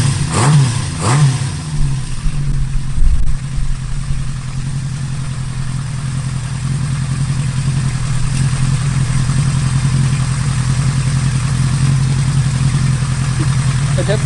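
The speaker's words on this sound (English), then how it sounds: "I definitely don't like the way this Mac sounds compared to the Cone Engineering mufflers I've been putting on these." A Honda CB550 motorcycle with Mac mufflers gives a couple of quick revs, then settles into a steady, loud, low idle that drones on close by.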